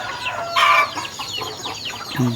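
Backyard chickens cluck in a small pen at predawn feeding time, a few short calls overlapping near and far, with one louder burst partway through.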